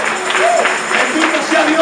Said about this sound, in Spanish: Dale el aplauso a Él.